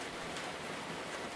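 Steady, even rain pours off the edge of an awning on a Paris balcony at night, a continuous close wash of falling water and droplets with no voices.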